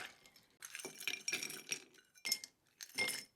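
Bar spoon stirring ice in a mixing glass for a Cuban rum cocktail, quiet close clinks and rattles in short irregular bursts with brief pauses between.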